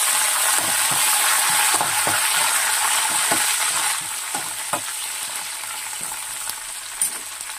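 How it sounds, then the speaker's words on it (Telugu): Curry leaves hitting tempering oil with mustard seeds for tamarind pulihora, a loud close hiss and spatter that eases partway through, with occasional pops and spoon taps. "ఇప్పుడు ఆవాలు కూడా ఫ్రై అయినండి, కొంచెం కరివేపాకు వేస్తాను."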